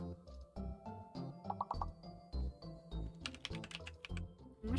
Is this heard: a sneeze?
no